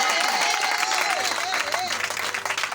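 A church congregation claps and cheers loudly in a sustained wash of applause and voices, while a voice rings out above the crowd.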